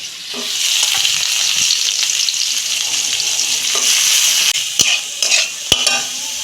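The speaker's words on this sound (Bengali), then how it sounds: "থোড়টা আমি দু মিনিট ভাজা ভাজা করে নেব" Chopped banana stem sizzles loudly in a pan as it is stirred. A steady frying hiss is broken by a few sharp spatula knocks and scrapes toward the end.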